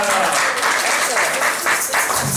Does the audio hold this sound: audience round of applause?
yes